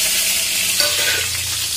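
Mustard seeds, fenugreek and cumin temper in hot oil, sizzling loudly and steadily, a dense crackling hiss with faint stirring underneath.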